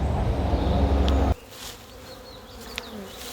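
Honeybees buzz in an open, smoked hive: a dense, close hum that is strong at first, then thins to a softer, scattered drone with individual bees passing near.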